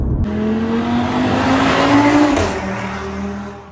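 A loud 420 bhp Audi RS3 8Y engine revs hard under acceleration, the pitch climbing steadily before a shift, with a rough crackling edge to the exhaust on the upshift.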